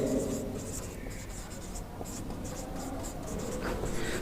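Pen or pencil writing out a job vacancy advertisement on paper, a faint continuous scratching of strokes with brief pauses, close and quiet over a soft room background.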